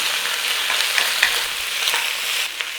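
Chicken and cabbage stir-frying in a pan, a loud, close, continuous sizzle with scattered crackles and stirring scrapes, no voices.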